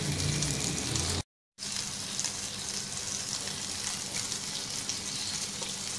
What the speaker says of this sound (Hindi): अब साथ के साथ अंडा भी फ्राई कर लेते हैं